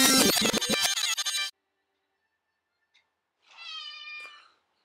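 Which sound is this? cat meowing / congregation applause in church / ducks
cat meowing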